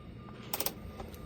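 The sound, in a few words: 11 mm ratcheting wrench turning bolt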